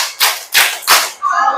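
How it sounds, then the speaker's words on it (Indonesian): Three sharp hand claps in an even, deliberate rhythm during a classroom ice-breaker, loud and close, with a brief burst of background noise after the last clap. "Tepuk 1, tepuk 2, tepuk 3,"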